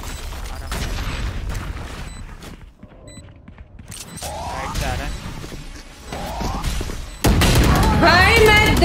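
Swarm grenades going off in Valorant, a run of sharp pops and crashing bursts amid busy gunfire and chirping game effects, growing louder toward the end.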